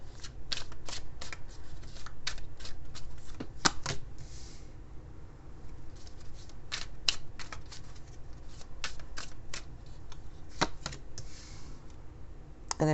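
A new tarot card deck being shuffled: a steady run of crisp riffling snaps and flutters, repeated in quick bursts for several seconds, close and clear over a faint room hiss with no talking.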